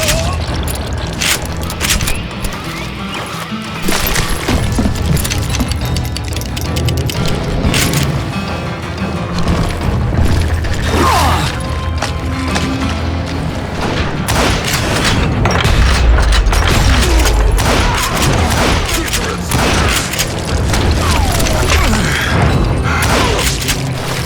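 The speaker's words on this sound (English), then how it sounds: "a fusillade of bullets come raining down from on high" Dense, continuous barrage of gunfire and booming impacts in the Wild West shooter Call of Juarez Gunslinger, with shots raining down from above, layered mechanical clatter and a voice speaking over the loud mix.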